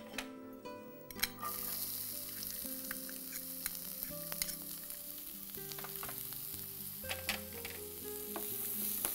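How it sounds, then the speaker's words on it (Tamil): Finely chopped onions hit hot oil with tempered fennel seeds and sizzle loudly and close, with stirring scrapes and clicks through the frying, over faint background music and no speech. "இதில் அடுத்து பொடியாக நறுக்கி வச்சுருக்க வெங்காயம் சேர்க்க போகிறோம்"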